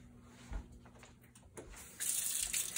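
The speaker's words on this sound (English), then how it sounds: "So the first thing you do, before you do anything, wash your hands." Tap water running into a sink while hands are washed, a soft continuous splash that swells louder toward the end with faint handling knocks, no talking.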